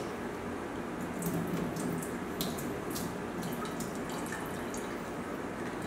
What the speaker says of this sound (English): You want to rinse the peas as always.